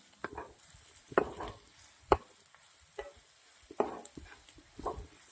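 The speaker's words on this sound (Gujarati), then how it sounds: "2 મિનિટ સાતળી લેશું." Green chillies sautéing in a pan with cumin, crushed dried coriander and Kashmiri chilli powder for a Rajasthani yogurt chilli dish, heard as a soft steady sizzle broken by several sharp spoon scrapes and stirs.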